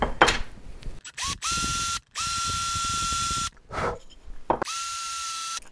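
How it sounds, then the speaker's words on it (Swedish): A power drill whines at a steady pitch in several bursts, drilling into a fishing lure, starting and stopping with short pauses, loud and close, with grinding mechanical noise underneath. "Så vi ska borra."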